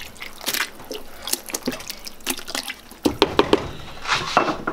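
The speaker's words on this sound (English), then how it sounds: "I'm gonna do a little bit of stir." Pepper soup with spice being stirred in a pot, wet sloshing and clinking of a spoon in irregular bursts, close and moderately loud.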